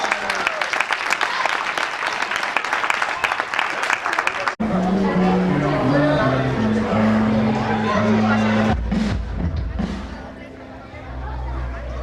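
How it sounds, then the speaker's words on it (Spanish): A crowd claps in steady applause for several seconds, then music with a held melody takes over while voices murmur in the background. "Un aplauso para os dos voluntarios."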